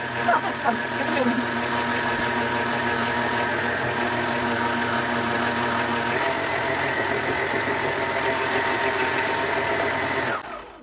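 An electric meat grinder mincing cottage cheese in a home kitchen, a steady loud motor whine with a rattling mechanical hum that runs unbroken for about ten seconds before cutting off.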